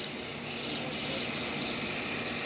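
Water leaking and hissing from the steam valve of a Breville espresso machine, a steady close rushing, gushing flow that continues evenly without speech.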